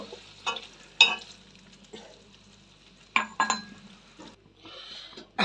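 Milk goes into a prawn malai curry cooking in a pan, with a quiet sizzle under a few sharp utensil clinks and scrapes against the pan, spaced out and close.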